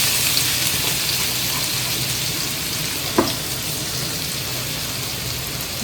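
Garlic dropped into hot oil in a pan previously used for frying eggs, giving a loud, steady close-up sizzle with a brief sharper crackle partway through and no talking.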